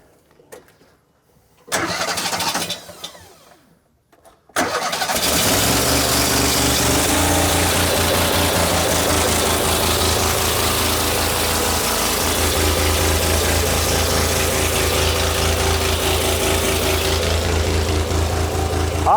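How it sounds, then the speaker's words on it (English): A fire hose pump engine cranks briefly, pauses, then starts and settles into a loud, steady running drone that continues without a break to the end. "I'm going to start the pump, and it's going to be a little bit loud"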